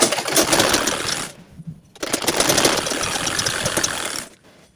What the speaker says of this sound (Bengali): এই উপর দিয়ে আরেকটা করে সেলাই দিব